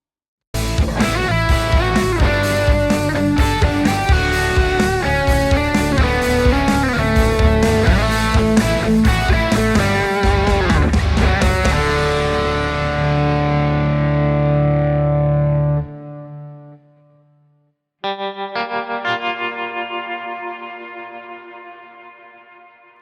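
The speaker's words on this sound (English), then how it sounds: "you can hear all the other tracks as well as the direct guitar track along with the sound from the profiler" Electric guitar reamped through a Kemper Profiler Stage plays with distortion and effects inside a full backing mix of other tracks, loud and dense, dropping out near the end before a sparser guitar passage rings on alone.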